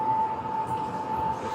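A train at a station rumbles with a steady low roar and a sustained whine or tone running through it, heard briefly and up close.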